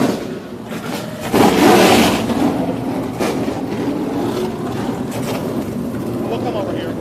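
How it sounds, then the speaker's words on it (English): Race car engines fire up and rumble at a TA2 race in Nashville, a loud, busy roar with a revving burst early on, heard beneath a commentator's talk. "As the engines roar"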